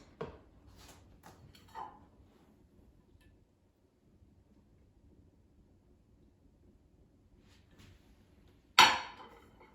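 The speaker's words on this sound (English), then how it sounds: "Let me remove them from the Instant Pot." Steamed artichokes are lifted out of an Instant Pot with a few light metallic clatters early on, a quiet stretch, then one sharp loud clank near the end.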